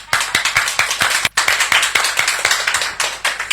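A congregation clapping at a church gathering, a run of sharp, distinct claps in a quick, fairly steady rhythm, close and moderately loud, with a brief break partway through.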